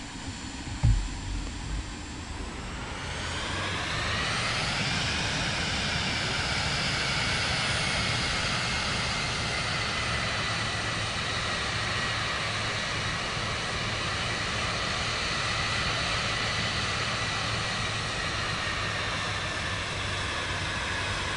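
Aircraft engine in Microsoft Flight Simulator 2024 spools up from a low idle into a steady, loud drone with a rising whine while taxiing, holding a continuous roar throughout after a brief thump at the start.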